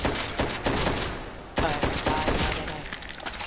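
Rapid gunfire rattles from a gun in Call of Duty: World at War, loud dense bursts of shots with a brief pause midway before firing resumes.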